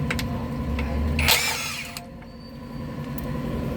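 Ratchet clicking while removing size 10 bolts from the transmission of a Nissan Navara, with a mechanical whir and rattle in a garage, a brief louder burst midway, then steady lower clatter.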